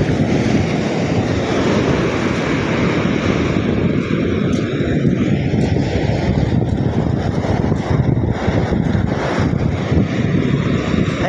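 Strong wind blowing steadily across the microphone on a beach with a low rumble and surf in the background, constant and loud throughout.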